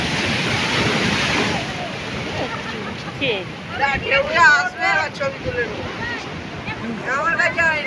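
Sea waves rolling in at the Digha estuary, a broad roaring wash with gusts of wind buffeting the microphone, while people talk and call out over the surf.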